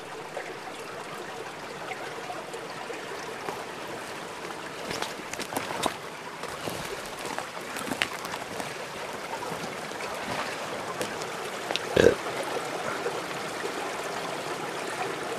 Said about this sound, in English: Listening to hear that water trickle out